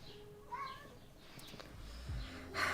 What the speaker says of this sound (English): Both kitties are very disappointed right now because I did not give them snacks.